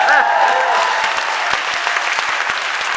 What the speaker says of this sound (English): Is that the first time the word appropriate has gotten a round of applause